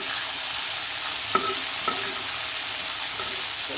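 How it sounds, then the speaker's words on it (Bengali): Chicken meat frying in a pan until reddish-brown, a loud steady hiss of sizzling oil with a couple of faint utensil clinks while being stirred, close and without speech. "লাল লাল করে ভাজা হয়ে গেছে, এরকম লাল লাল করে ভেজে নেবেন।"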